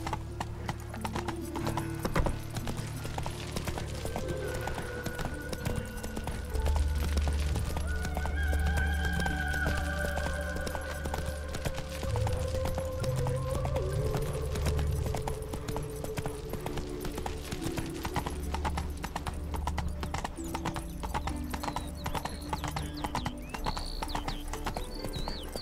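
Roach, the horse in The Witcher 3 video game, gallops with rapid rhythmic clip-clop hoofbeats that run continuously, with a whinny partway through over a low ambient game score.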